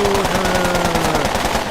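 Rapid automatic gunfire rattles steadily and loudly in a video game, a fast unbroken burst of shots.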